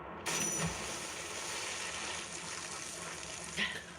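A character plunges into water from a great height in Zelda: Tears of the Kingdom, making a sudden splash that settles into a soft, continuous watery rush, faint throughout.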